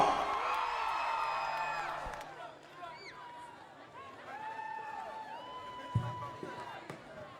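A large festival crowd at a concert in Gamboa cheers and whoops with rising, wavering shouts, a steady roar of many voices continuing throughout.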